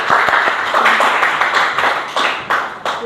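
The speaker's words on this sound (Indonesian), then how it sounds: "Beri aplaus kelompoknya Sirifan" A classroom of students claps for a student group after a presentation, a loud, dense burst of applause that carries on steadily for a few seconds.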